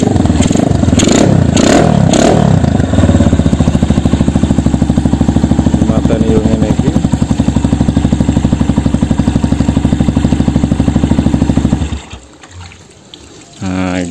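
A motorcycle engine, started by remote, runs loud and steady with a rough throbbing idle and some revving, then cuts off abruptly near the end, leaving a quieter background.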